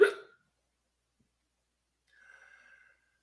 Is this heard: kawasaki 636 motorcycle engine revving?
no